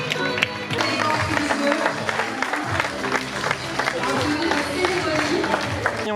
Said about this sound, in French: On peut applaudir très fort notre première jockey Miss Handy France